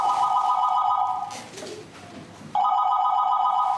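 An office telephone rings with a loud, steady electronic trill, stops for about a second, then starts ringing again.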